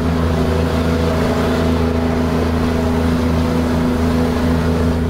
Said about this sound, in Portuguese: Primeiro estágio do freio motor.